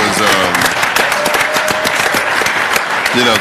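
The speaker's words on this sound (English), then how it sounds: "Can we just give Dr. Anderson a round of applause one more time?" Audience applause for Dr. Anderson at a disparity study presentation and panel at NJIT, loud sustained clapping from a large crowd with voices speaking over it near the end.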